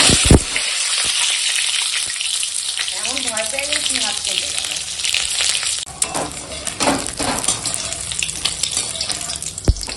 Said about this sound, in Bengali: এখন এই ডিমগুলো ভেজে নেবো